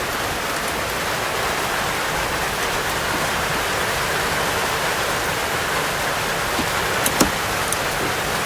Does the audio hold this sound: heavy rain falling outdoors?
yes